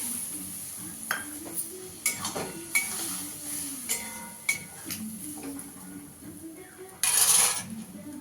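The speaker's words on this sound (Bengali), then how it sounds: "পোস্তর বাটিটা ধুয়ে একটু জল দিয়ে দেবো।" A bowl that held poppy seed paste knocks and clinks as it is handled, with scattered clinks followed by a short burst of running water near the end.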